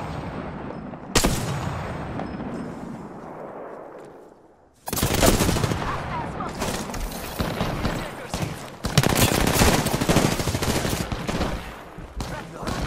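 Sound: gunfire in the video game Apex Legends

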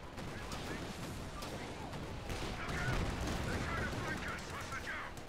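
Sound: tank gunfire and explosions in a video game

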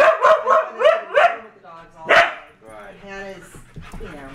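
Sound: husky dogs barking while playing

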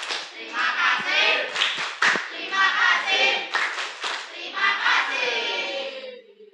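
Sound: classroom applause, students clapping

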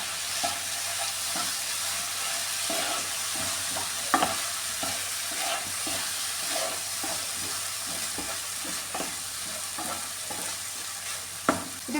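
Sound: stirring tuna fish curry in a pan

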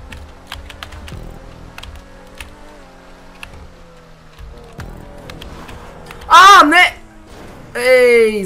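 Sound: computer keyboard keys pressed while drifting in a driving video game

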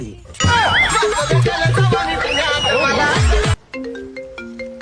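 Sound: phone ringtone

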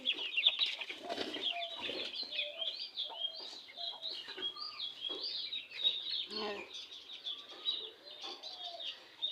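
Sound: chickens being released from coop

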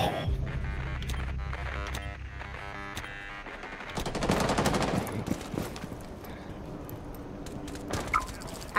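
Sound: gunfire in the video game Rainbow Six Siege

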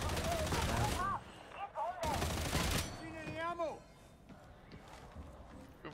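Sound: gunshots in a video game

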